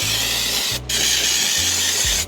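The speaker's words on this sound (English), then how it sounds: "I'm about to absolutely drown this engine bay in degreaser" Degreaser sprays over the engine bay of a Toyota Land Cruiser 80 Series in loud, steady hissing bursts from a pump sprayer, with one brief pause between bursts.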